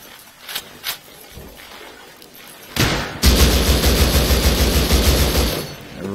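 M249 light machine gun in the survival game Rust, on a battlefield-style server, fires a long sustained burst of rapid, loud automatic shots after a few quieter pops, continuing for about three seconds.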